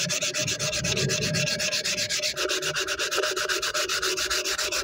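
Rapid, steady back-and-forth scratching of sandpaper on a Pringles can, close and continuous, with no voices.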